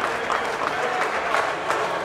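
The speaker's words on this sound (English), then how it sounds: "A big round of applause for them, please." Steady audience applause at a fishing center captain's meeting for the OC Tuna Tournament, a continuous dense wash of many hands clapping at an even, moderate level.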